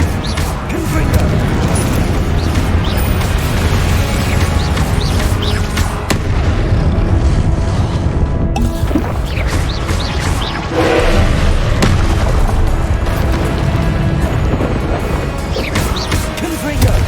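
Confringo explosive spell blasts in the video game Hogwarts Legacy land in a loud, continuous barrage of booms and crashes, with battle noise and voices around them.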